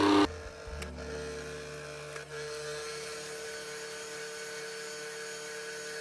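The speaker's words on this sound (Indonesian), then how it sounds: "Kita mixer hingga coklat dan menteganya tercampur rata." An electric mixer runs steadily through chocolate and butter for brownie fruitcake, a continuous close motorized whir with a brief change in pitch near the start and a short dip midway.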